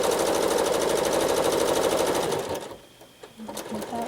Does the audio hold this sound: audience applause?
no